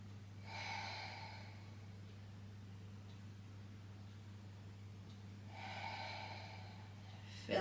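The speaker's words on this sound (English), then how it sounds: "take a deep breath into the body" Deep breathing during a gentle beginner Pilates class: two slow, breathy exhalations close to the microphone, several seconds apart, over a low steady background hum.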